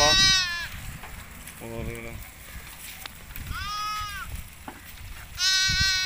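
Sheep grazing on cotton crop leaves in a village field let out a few wavering bleats, some close and loud, others fainter, while someone talks in Hindi-Urdu over them.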